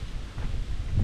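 Wind rising on a hiking trail near Rochehaut, a dense low rumble buffeting the microphone in gusts that swell toward the end.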